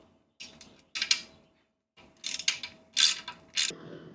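A torque wrench tightening four windshield bracket bolts on a Suzuki DRZ4S motorcycle's mini windscreen, heard as close bursts of ratcheting clicks with short pauses between them.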